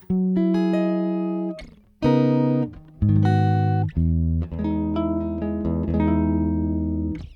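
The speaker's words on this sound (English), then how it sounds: "Here is our dry guitar sound." Dry electric guitar with no effects, playing clean plucked notes and chords in separate phrases, each ringing out and decaying before the next, close and clear with no voices.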